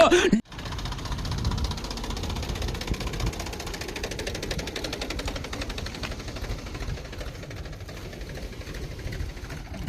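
A steady, low diesel tractor engine chugs continuously after a brief initial noise, running at a constant pace close by on a farm while digging a channel, with no talking.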